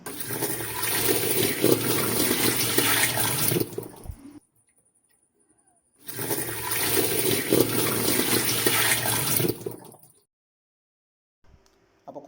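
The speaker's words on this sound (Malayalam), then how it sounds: "ഞാൻ ഇതിനകത്തേക്ക് കുറച്ച് വെള്ളം ഞാൻ എടുത്ത് ഒഴിക്കുകയാണ്" Water poured into a washing machine drum during a drain seal repair: two steady gushing pours of about four seconds each, separated by silence, close and fairly loud, with no talking.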